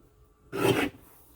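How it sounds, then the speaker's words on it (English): A single short pass of a paper trimmer blade slicing through cardstock, a quiet rasping cut lasting under half a second in an otherwise still room. "Let's trim the 2 squares apart, so we'll cut at 4 and 2."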